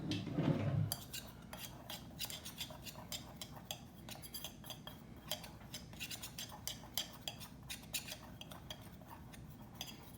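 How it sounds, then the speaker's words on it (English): A whisk clinks and scrapes rapidly against a bowl while mixing dried peanut butter powder for a cheesecake, a fast, steady metallic ticking that runs continuously after a brief thud at the start, close and fairly quiet. "What I want to do is make sure that this is whisked together very well."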